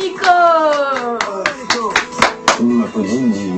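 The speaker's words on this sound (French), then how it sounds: "Il m'applaudit, il me dit bien joué." A person clapping on a French reality TV show, Les Anges 8: about eight sharp, irregular claps come close together, mixed with a voice making tonal sounds.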